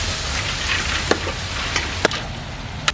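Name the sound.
cabbage and onion frying in a pan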